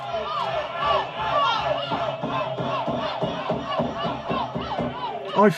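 A crowd in a pub boos, shouts and heckles a woman, a dense continuous din of raised voices with overlapping yells throughout and a louder burst near the end.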